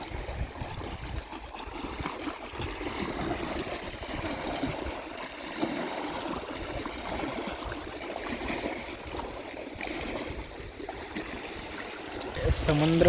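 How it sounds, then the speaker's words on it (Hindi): Waves on the Narmada river lap against the shore in a steady, continuous wash of water, moderately close, with no voices over it. "और मैया की जो लहरें टकरा रही हैं ना, उनकी आवाज़ तो अल्टीमेट है, बहुत ही खूबसूरत है।"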